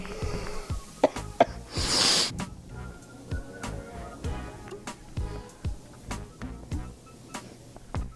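Several short, sharp coughs scattered over a few seconds, close to the microphone, with breathy noises and a brief hiss between them.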